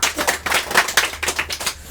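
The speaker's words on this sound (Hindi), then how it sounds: "एक बार ताली बजाइए" Studio audience claps for the winner of a school quiz show, a loud, fairly sparse clatter of separate hand claps in an uneven rhythm, close and clear.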